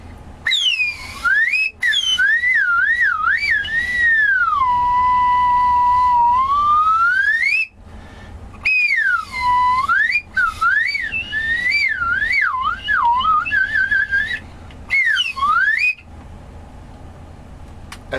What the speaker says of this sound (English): Human slide whistle.